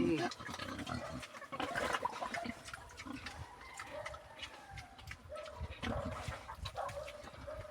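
Several farm pigs grunt and squeal as they squabble at close range, a busy, scrappy mix of snorts and cries with a person talking over it and other farmyard animals in the background.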